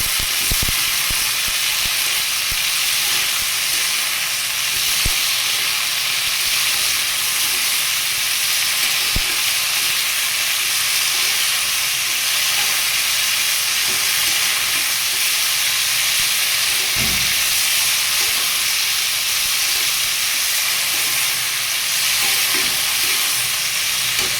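Long beans and potatoes stir-frying in a pan with salt and turmeric, a loud, steady hiss of oil that never lets up, with faint clinks and scrapes of stirring underneath and no voices.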